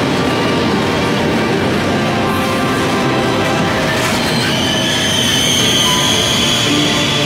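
Steady, loud rumble of a fast-moving Italian high-speed train, with broadband rushing noise and rail roar that swells slightly toward the end.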